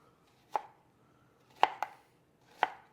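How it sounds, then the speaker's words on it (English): A knife chops cucumber slices into little cubes on a board, four crisp close thuds at an uneven pace in a quiet room, with no talk. "So I'm just going to cut off a few slices"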